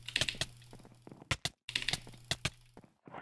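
Fast jitter clicking on a mouse during a Minecraft match: dense bursts of sharp, close plastic clicks, rapid and uneven, with a brief silent gap in the middle, and no voices.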